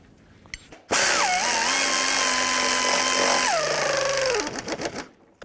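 A power tool whines loudly as lower control arm bolts are tightened on a 2003–2007 Cadillac CTS, with one sustained burst that drops in pitch near the end, then rattles briefly as it winds down.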